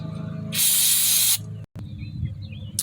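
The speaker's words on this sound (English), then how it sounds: "I'll just use some brake cleaner and spray it up" Brake cleaner sprayed from an aerosol can onto a parking brake during a brake shoe change, one loud hissing burst lasting under a second, followed by quiet shop noise and a short handling clatter.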